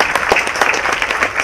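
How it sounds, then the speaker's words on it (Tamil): An audience at a Chennai film audio launch claps loudly in a dense, continuous burst, with individual hand claps standing out through the crowd. "அவர் நல்ல கரகோஷப்படுங்க,"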